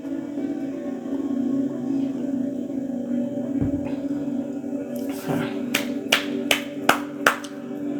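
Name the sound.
hands clapping to clear energy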